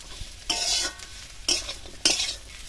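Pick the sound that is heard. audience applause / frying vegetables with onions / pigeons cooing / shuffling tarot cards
frying vegetables with onions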